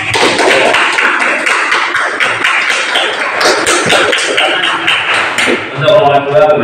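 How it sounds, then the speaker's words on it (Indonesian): Classroom applause for a student group after a presentation, a dense burst of many hands clapping that runs steadily for about six seconds, with a few voices over it near the end. "Beri tepuk tangan yang meriah untuk kelompok."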